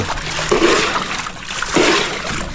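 River water flowing in a shallow, gentle current, a close, broad rushing wash that swells twice in soft surges, with no voices over it.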